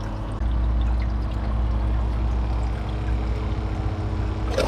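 A Kohler Highline Class 5 toilet flushes with a sudden loud rush of water that starts abruptly and keeps up as a steady, close whoosh, thinning toward the end, with no voices.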